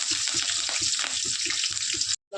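Onions, green chillies and curry leaves hiss and sizzle steadily in hot oil with mustard seeds and cumin, a bright, continuous frying crackle that cuts off abruptly near the end.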